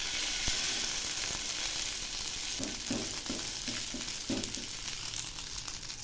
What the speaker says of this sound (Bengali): তেল গরম হয়েছে, এবার আমি পুর ভরা বেগুনগুলো দিয়ে দিচ্ছি।